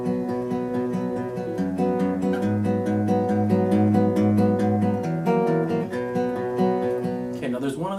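Fingerpicked guitar notes ring out in a steady, flowing pattern of overlapping plucked tones, played alone and close.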